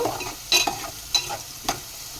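Drumstick pieces frying in oil in a pan, a soft sizzle beneath a few sharp stirring scrapes and clinks that come in short bursts, close and alone, with no voices.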